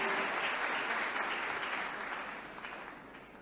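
A seated audience at a felicitation ceremony for meritorious students in Bhopal claps steadily to welcome a student to the stage, a dense sustained applause that slowly fades toward the end.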